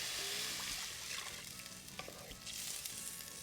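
Reduced milk is poured into a sizzling tomato mixture in a pot for a Trinidadian channa stew, giving faint, steady frying crackle with light stirring and liquid sounds.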